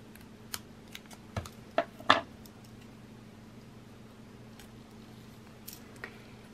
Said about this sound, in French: Je prends mes ciseaux et je vais venir couper au niveau de ma marque de pli